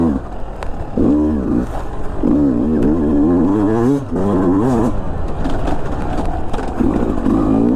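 A 2022 Beta 200 RR dirt bike engine revs repeatedly in rising and falling surges, loud and close, with a rough buzzing tone and brief dips between pulls.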